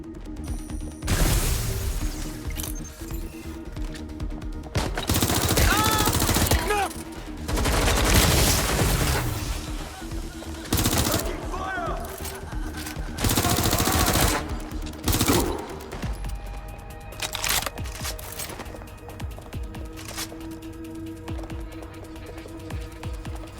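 Bursts of automatic gunfire fill a shootout in the video game Watch Dogs: Legion, loud rapid volleys broken by short pauses and repeated throughout, with clattering impacts between them.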